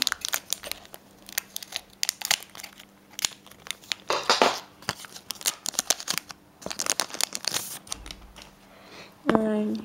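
Scissors snip into a foil Pokemon Hail Blizzard booster pack amid crinkling and crackling wrapper noise, a string of sharp close cuts and rustles, with a voice talking intermittently over it.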